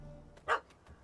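A puppy in The Witcher 3 gives one short, clear bark with faint yips around it, close but fairly quiet against a low game background.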